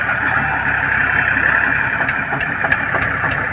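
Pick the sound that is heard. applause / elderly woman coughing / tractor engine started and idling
tractor engine started and idling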